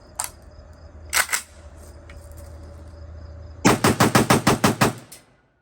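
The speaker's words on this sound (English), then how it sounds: "let's test fire this thing. We're going to do some nice, slow, controlled shooting." An AK-12 rifle fires at an outdoor test: a few spaced single shots, then a quick string of about nine evenly paced shots, loud and close over steady background hiss.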